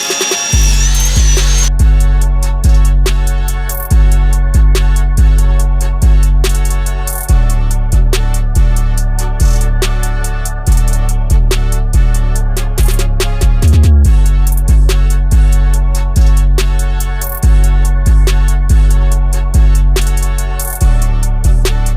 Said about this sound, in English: We're just gonna drill some holes.